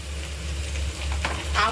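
Onions frying lightly in a pan, a close, continuous sizzle with a couple of brief scraping stirs toward the end.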